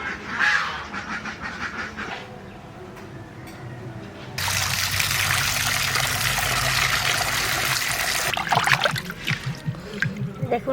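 Tap water pours and splashes as fish is washed in a Bengali village kitchen. After quieter handling sounds, a loud gush of water takes over and continues with splattering, and a voice is heard near the start.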